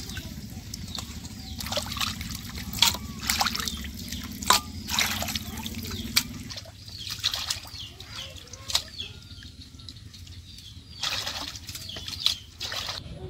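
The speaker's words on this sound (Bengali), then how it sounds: "এখন আমি পরিষ্কার করে ধুয়ে নিব।" Raw chicken pieces rinsed clean with water in a village kitchen: irregular splashing, dripping and sloshing close by, steady and moderately loud throughout, with a low hum underneath that drops away partway through.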